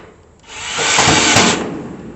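Bolts are driven tight while a Char-Broil Performance Series four-burner gas grill is assembled: one loud, close power-tool whir of about a second rises from quiet and then fades.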